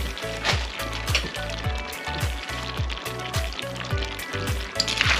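Chicken wings and frozen haricot beans stir-fried in a hot pan, with a steady loud sizzle that continues throughout and repeated low knocks and scrapes as the food is stirred.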